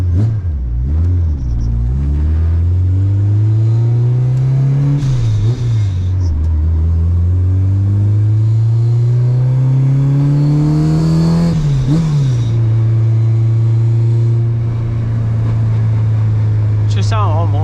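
A supercharged Honda K24 engine revs and pulls hard, heard close from inside the car as a loud droning tone that climbs, dips at shifts and climbs again, with voices talking over it.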